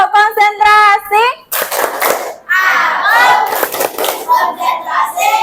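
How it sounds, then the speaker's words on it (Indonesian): A class of sixth-grade children in a school chants loudly in unison, broken by bursts of sharp group clapping in a rhythmic concentration clap pattern, close and energetic. "Tepuk konsentrasi."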